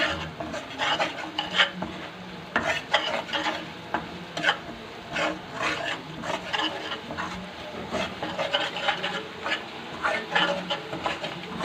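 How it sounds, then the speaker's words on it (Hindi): Spices and chillies being fried and stirred in a pan for potato snacks, a steady rhythmic scraping of a spoon against the pan over a soft sizzle, close and continuous with no talking. "अब ये सारे मसाले जो मैंने आपको बताए मैं इसके अंदर डाल दूँगी और इसको अच्छे से 2 से 3 मिनट तक भून लूँगी"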